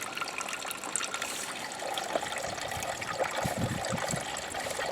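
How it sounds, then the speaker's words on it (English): Homemade apple juice from a five-gallon pail of apples trickling out of a press, a faint, steady liquid splashing and dribbling close by, continuous with small gushes and no talking. "juice coming out"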